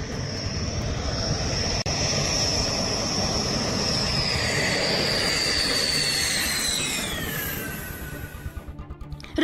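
A Rafale fighter jet flies over Delhi during a Republic Day flypast, its loud, steady engine roar holding for several seconds. A high whine slowly falls in pitch as the aircraft passes and fades away. No one speaks.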